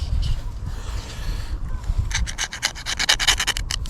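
Gentle scraping on a jetty during surfcasting, a soft rubbing that turns into a quick series of short, crisp scrapes close up, with a low outdoor rumble underneath.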